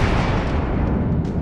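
Battleship main guns fire a test shot in the World of Warships Legends naval game. A single dense, sustained boom fills the whole moment with heavy, rumbling low-end roar and no talk over it.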